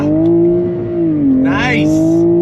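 A 2022 Toyota Supra 3.0 pulls hard in first gear, its engine holding a loud, close, buzzing drone that dips briefly and then climbs again while a voice calls out excitedly over it.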